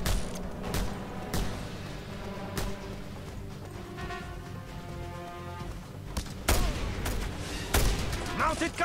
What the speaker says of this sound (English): Mounted gun! Scorpio, take care of it!